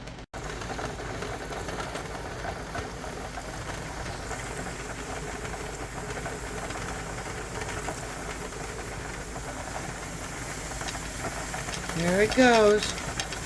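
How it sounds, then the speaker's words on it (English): A pressure canner holding BBQ hot dogs vents steam in a steady, loud hiss that runs throughout, with a brief rattling chatter near the end and a short spoken remark. "it's just now starting to steam to let the air out"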